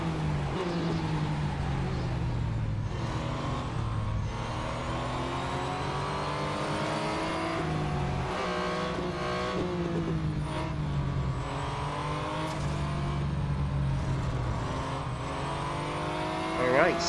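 Race car engines from the racing video game Real Racing 3 drone and whine steadily, pitches rising and falling as several cars run close together through the laps, with a player's voice talking over them.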